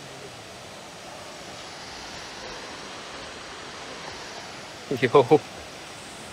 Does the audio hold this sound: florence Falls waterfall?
yes